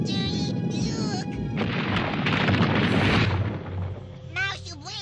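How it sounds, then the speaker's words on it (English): Cartoon explosion from the animated series Bravestarr, set off in a cave and setting off a cave-in: a loud, sustained roaring blast with crashing rumble lasting a few seconds, framed by whooshing effects and voices around it. "Was that an explosion?"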